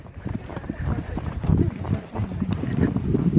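Horse hooves clip-clop in a quick running rhythm while riding over jumps, fairly close and steady, with a voice talking over the hoofbeats.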